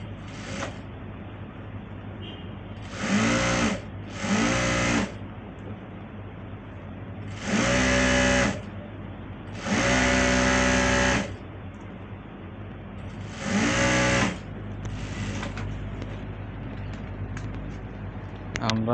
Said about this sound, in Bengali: এরপরে আমরা রাবারে সেলাই দিব